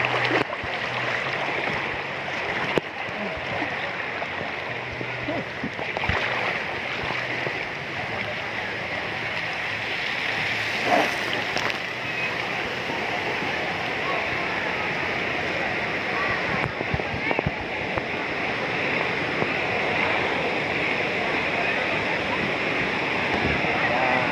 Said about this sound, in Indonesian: Ini ombaknya agak keras yang bukan yang sore, tapi kayak seperti ini